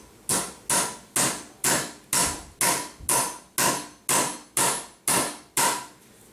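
A bigger nail is hammered into cured Rhino wood repair filler, about a dozen sharp, evenly spaced hammer blows, close and crisp, each ringing briefly before the next strike.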